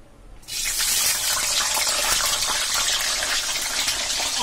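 Potato fries for homemade crispy French fries dropping into hot oil in a heated kadhai, bursting into a loud, dense, steady hiss that starts abruptly and continues without a break, with no talking.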